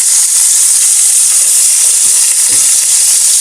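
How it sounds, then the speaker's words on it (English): Meat shank browning in a hot pan, a steady loud sizzle and spatter of frying fat filling the whole clip, with faint stirring knocks underneath and no talk. "I'm going to go ahead and throw a shank in there."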